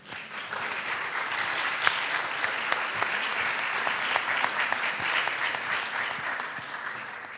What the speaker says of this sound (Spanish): Démosles un cálido aplauso, por favor.